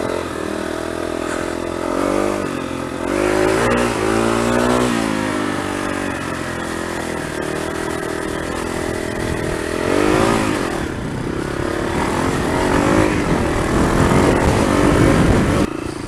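A Kawasaki KLR motorcycle revs hard off-road, climbing over tree roots and popping a wheelie. The engine stays loud and close throughout, rising and falling through repeated throttle surges with some clatter.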